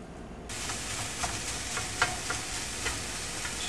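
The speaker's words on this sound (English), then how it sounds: "Just chopping up the ground turkey to try and make it a little finer here." Ground turkey sizzles steadily in a hot pan while a utensil chops and scrapes through it, with several sharper clicks over the constant frying hiss.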